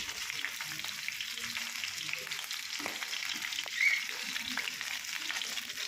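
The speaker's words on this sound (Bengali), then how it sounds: "একসঙ্গে আমি তিনটে চারটে করে একবারে ফ্রাই করছি" Pomfret fish fry in oil three or four at a time with a steady, close crackling sizzle and a brief louder pop partway through.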